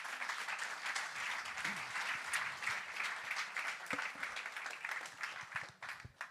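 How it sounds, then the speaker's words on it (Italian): An audience at a tenth-anniversary celebration for Sardegna Live in Cagliari applauds Roberto Tangianu with steady, dense clapping that holds for several seconds before thinning out, heard from a moderate distance. "Un applauso a Roberto Tangianu."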